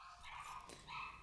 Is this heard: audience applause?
no